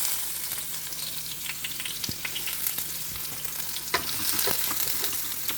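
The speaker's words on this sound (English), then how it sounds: "Add a little cooking oil and stir fry mixed onion, garlic, and carrot, green peas, slice green onion until tender." Onion, garlic, carrot and green peas stir-fry in hot oil with a constant loud sizzle, broken by occasional scrapes and clanks from stirring. No voices are heard.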